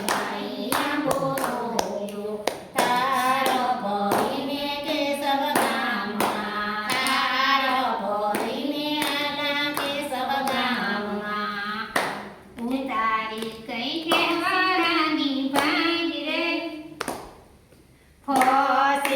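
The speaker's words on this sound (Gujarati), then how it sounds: "આપણે તાળી પાડીએ" Hands clap in steady rhythm through a devotional kirtan to Lirbai Mataji, mixed under loud group singing with strong melodic voices, a brief drop near the end before the claps and song resume.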